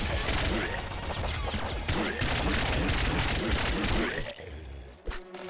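Rapid bursts of shotgun fire from the Nuclear Throne video game, dense and continuous for several seconds with crashing impacts, then cutting out near the end, mixed under a speaking voice.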